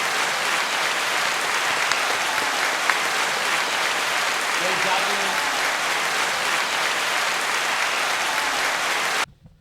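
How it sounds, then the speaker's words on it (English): A comedy-show audience claps for Dave in a steady, dense wash of applause lasting about nine seconds, then cuts off abruptly at the end. "Let's give a round of applause for Dave"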